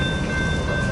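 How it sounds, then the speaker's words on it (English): An eastbound manifest freight train rolls past heading into a rail yard, a steady, dense rumble of wagons filling the full second at close range with constant loudness. "manifest here started moving again."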